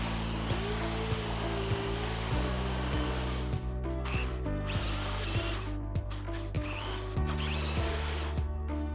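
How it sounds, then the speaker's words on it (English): A power drill bores holes through a spruce workbench frame to take bolts, giving a steady, continuous motor whine that shifts slightly in pitch, close by, with no speech. "Next, the holes could be drilled through and the bolts inserted."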